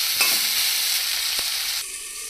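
Vegetables frying in a pan with salt and turmeric, a steady close sizzle broken by a couple of brief stirring scrapes before the sizzle eases slightly.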